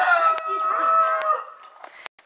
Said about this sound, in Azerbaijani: Bax, həmən bu xoruzun səsidir ki, videolarımda düşür.